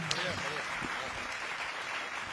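An audience at a Hindi poetry recital applauds in a dense, continuous burst of clapping, mixed with a voice speaking and some background crowd noise.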